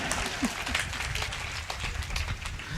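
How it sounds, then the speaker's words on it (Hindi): Audience applause at a Hindi kavi sammelan poetry gathering, a steady wash of clapping throughout with a few louder claps standing out near the start. "अब बात पर तालियां बजा सकते हो"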